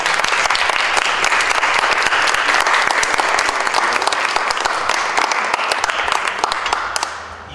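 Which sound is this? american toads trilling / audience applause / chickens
audience applause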